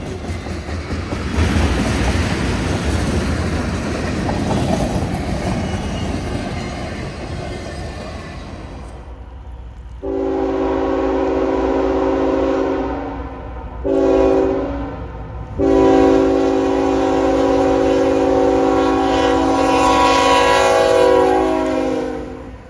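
A CSX freight train, I-025, pulls out at the south end of Nortonville on the Henderson Subdivision: a rumbling, rolling train noise gives way to long, loud multi-tone horn blasts, broken by brief gaps, sounding near.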